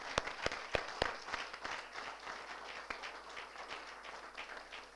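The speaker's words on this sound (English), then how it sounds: "I request you to please give a huge round of applause for yourself." Valedictory ceremony audience breaks into applause, opening with several loud, distinct claps that soften into a lighter, scattered patter.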